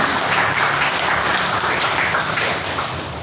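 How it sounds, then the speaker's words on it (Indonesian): An audience at a school project exhibition applauding students, giving dense, sustained clapping from many hands that is loud and close and fades slightly at the end. "Tepuk tangan buat anak-anak kita semua"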